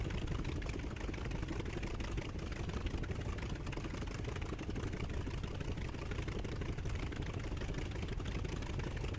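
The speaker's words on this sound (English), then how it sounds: "Yeah, it's a good engine sound" An aircraft engine idles in the DCS flight simulator with a dense, steady, low rumbling drone that holds constant and close, with no talking.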